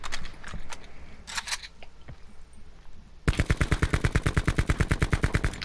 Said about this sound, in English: shoot a couple groupings to figure out the recoil pattern